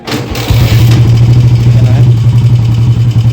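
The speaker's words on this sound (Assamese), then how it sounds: "একে কিকে ষ্টাৰ্ট হৈ গ'ল।" A 1988 Royal Enfield Bullet motorcycle fires on a single kick, then a low, thumping single-cylinder engine settles into a steady loud idle close by.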